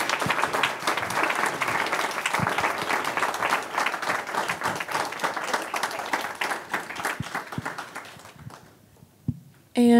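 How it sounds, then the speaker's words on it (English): Audience claps for a session at a UC Davis Future of Work event, individual claps clearly distinguishable in a lively burst that thins and trails off near the end, followed by a brief sound as someone begins to speak. "can we please get a big round of applause for this amazing session?"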